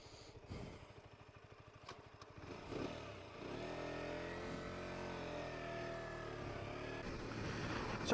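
A 125cc motorbike riding along, the engine droning steadily after a few gear changes and rising in pitch as it accelerates, heard from the rider's position with wind noise and no talk.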